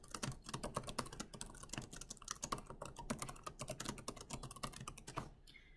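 Typing a message on a computer keyboard: a steady, rapid patter of key clicks, close and moderately loud, with no voices over it.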